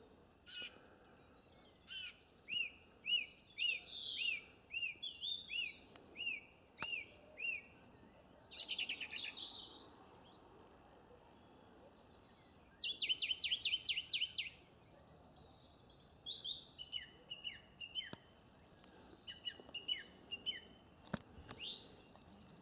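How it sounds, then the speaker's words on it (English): A songbird sings outdoors in repeated short chirping phrases and trills, fairly faint and distant against quiet background noise, with no talking. "what kind of bird's this?"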